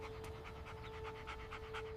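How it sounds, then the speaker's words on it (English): A dog pants quickly and rhythmically close by, a soft steady breathing pattern with no voices over it. "A dog grabbed me. He wants us to follow him."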